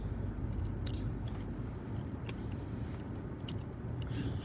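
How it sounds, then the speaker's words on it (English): Gum being chewed close to the microphone, a continuous soft wet smacking and squishing with occasional sharper clicks, no talking. "some people don't like sounds of chewing gum"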